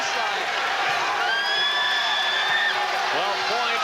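A crowd at a women's college basketball game between Louisiana Tech and Western Kentucky roars steadily through the arena, loud and sustained, with a commentator talking over it and whistle-like tones rising above the noise.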